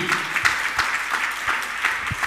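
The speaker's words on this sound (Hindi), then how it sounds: "ताली ताली" A crowd claps steadily, a dense continuous patter of many hands applauding at close range.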